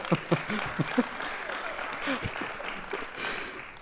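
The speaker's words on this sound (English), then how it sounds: "let's give her a round of applause" Faint, scattered applause from a faculty and staff forum audience marking a colleague's birthday, mixed with a few voices and light laughter throughout.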